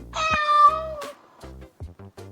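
A cat meows once in a long, drawn-out, whining call, close and clear, followed by a few shorter, softer sounds.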